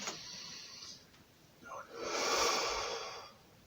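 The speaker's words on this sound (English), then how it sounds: "And the closing exercise. We are breathing in." Deep breathing in and out during a guided closing breathing exercise, with a soft airy exhale followed by a longer, louder breath swelling and fading, close and alone with no talk.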